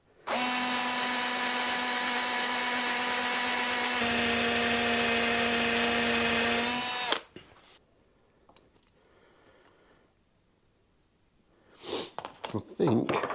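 Power drill bores out the stripped threads of a Stratocaster tremolo block, a loud steady whine that drops in pitch midway, cuts off after about seven seconds, then gives way to faint handling noises and scraping.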